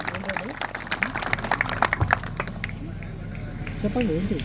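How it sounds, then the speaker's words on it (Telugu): An audience claps at a ceremony unveiling a statue of Chhatrapati Shivaji Maharaj, with dense, fairly close applause that peaks and then fades as someone speaks over it. "స్టేజ్ మీద ఉపస్థితులైనటువంటి పెద్దలకు అందరికీ మరొకసారి గట్టిగా చప్పట్లు కొట్టండి"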